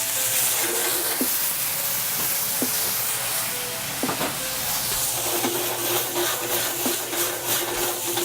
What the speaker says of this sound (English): I'm gonna deglaze with some white wine.